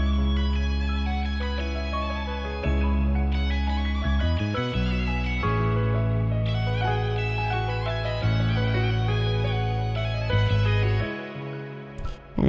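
A full melodic loop built in FL Studio for a pain beat, with sustained layered melody over deep bass, playing steadily and loud without any voice before a brief drop near the end.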